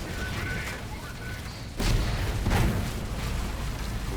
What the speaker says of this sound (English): Vortex grenade.